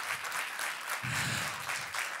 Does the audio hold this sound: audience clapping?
yes